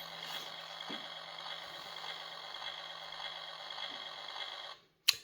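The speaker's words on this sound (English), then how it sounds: "You push him down, and you get a tank idling kind of noise." Electronic tank-idle effect from a Transformers Generation 2 Megatron toy tank: a steady, thin rumbling hum with faint regular ticks, playing alone for about five seconds before cutting off with a brief click.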